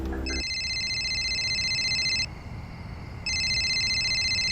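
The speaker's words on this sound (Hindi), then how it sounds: "तेरा फोन बज रहा है" A phone rings at night with a repeating electronic ringtone of bright, pulsing tones. The ringing stops briefly and then resumes, over a quiet background hiss.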